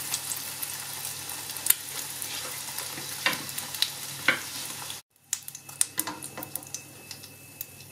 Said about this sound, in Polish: I smażymy z drugiej strony.